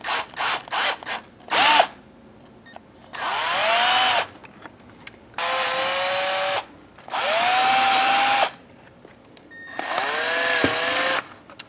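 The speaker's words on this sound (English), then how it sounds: "I'm going to use an 1/8 inch drill bit over here." A power drill with a 1/8 inch bit drills through the dashboard of a third-generation Camaro or Firebird in several sustained bursts, its whine rising in pitch as it spins up, with short clicks and handling noises between runs.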